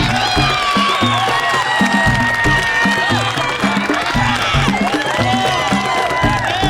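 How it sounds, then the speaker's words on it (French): A crowd claps and cheers steadily throughout a certificate award ceremony, with loud upbeat music playing over the applause and scattered whoops. "Et on applaudit"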